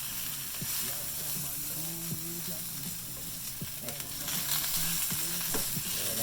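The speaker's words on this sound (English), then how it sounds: "Nice little stir." Tuna frying in a pan for sweet and spicy tuna tacos, a steady loud sizzle with intermittent scraping and clicking stirring strokes up close, and faint low voice murmurs underneath.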